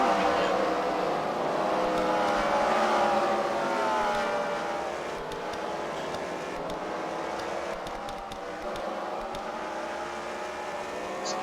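Race cars lapping the CWRL track at the Freedom Factory during a Fight Night final round, a loud sustained engine roar that swells and fades as cars pass, with a commentator talking over it.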